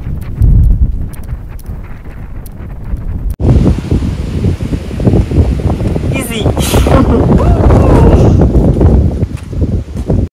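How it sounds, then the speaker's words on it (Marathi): Strong gusting wind buffets the microphone on an open hilltop along the Asherigad trek in the Sahyadri range near Palghar, a loud continuous roar with bursts, while a person's voice is faintly present underneath. "खूप हवा आहे, मस्त वाटतं."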